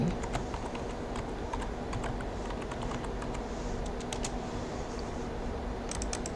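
Keys clatter on a computer keyboard in a steady run of taps during SketchUp wall modeling, each stroke crisp and close against a low background hum, with no talk.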